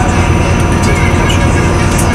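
Steady rumble inside a moving Avanti West Coast Voyager train, with dense low-frequency running noise and faint rail clatter filling the cabin throughout, no talk.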